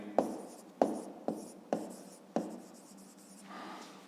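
A pen writes by hand during a maths exercise, making five sharp taps spaced roughly half a second apart, each followed by a short scratchy stroke, then a softer, longer scribble at the end, close and fairly quiet.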